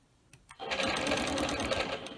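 A sewing machine stitching a quilt starts after a moment of quiet and runs at a fast, steady whir with rhythmic needle pulses, loud and close.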